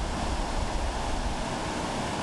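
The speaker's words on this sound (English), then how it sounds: "Waves are kind of coming in straight." Surf rolling steadily onto the south-side beach at Stony, a continuous broadband wash of breaking waves with wind buffeting the microphone throughout, no voices.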